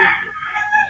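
A rooster crows once, close and fairly loud, among a family's chickens beside their home kitchen, with a bright rising-then-holding call that fades into faint background noise.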